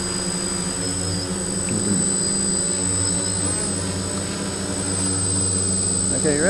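DJI Flame Wheel 450 quadcopter fitted with 8-inch props and a NAZA controller, held at full throttle outdoors over a field: a loud, steady, high-pitched propeller whine that holds throughout with little variation.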